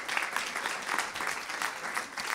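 Audience applause for the IT helper after a classroom quiz game, a short burst of scattered clapping from a modest crowd, fairly faint.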